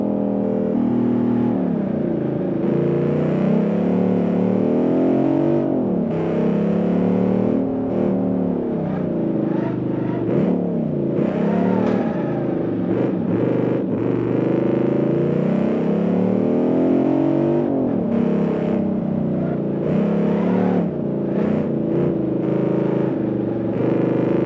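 Modern muscle car in BeamNG climbing a twisty mountain road, its engine droning loud and steady throughout with rising and falling revs as it works through the bends, no talking.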